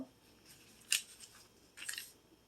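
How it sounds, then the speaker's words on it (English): Scissors snip through paper coupons up close, giving two faint, crisp cuts about a second apart against a quiet background. "I have a pair of scissors handy."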